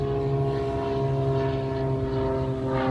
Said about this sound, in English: we got a plane passing by